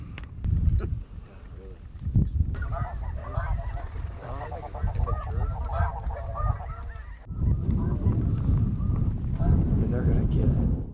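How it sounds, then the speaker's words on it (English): Snow geese honk in a dense, clamorous flock during a rainy, muddy duck hunt in Canada, loud and close with overlapping calls, a brief lull, then a renewed burst, with someone talking at the start. "if those snow geese keep coming like that, it'll be a pretty awesome morning"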